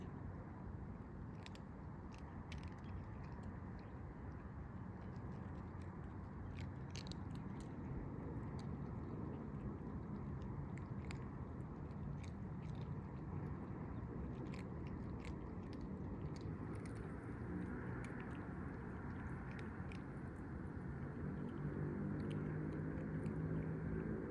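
Five kittens crunching dry food, soft irregular crunching and nibbling over a low steady background rumble, quiet and close throughout.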